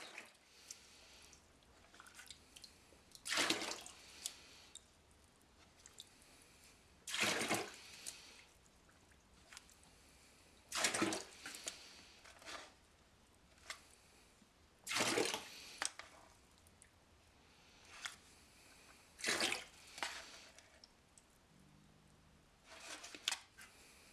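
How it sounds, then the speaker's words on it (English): Excess water is poured off a container of recycled pottery clay slurry in repeated short splashing bursts every few seconds over a quiet background, faint and close. "you want to pull the excess water off the top. If you tilt your container, you can get almost all of it"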